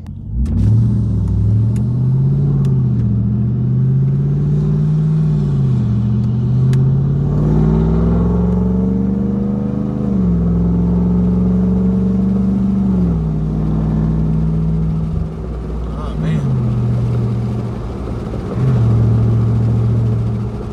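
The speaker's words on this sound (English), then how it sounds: "Like I said, the V8 supercharged engine, and I like it, you know." A 2022 Ram 1500 TRX's big supercharged Hellcat V8 pickup engine rumbles loudly, revving up and easing off in waves with a deep, throaty tone.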